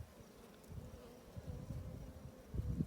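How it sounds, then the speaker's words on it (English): Honeybees buzz around a hive frame in a steady low drone, many insects close together, with the hum swelling louder toward the end. "There's lots of bees all over."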